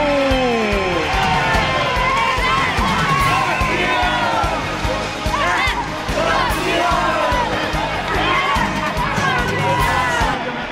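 An under-14 futsal team and its supporters from Teresópolis erupt in loud, continuous shouting and cheering after winning the Copa Intertv championship, with overlapping voices chanting close up throughout.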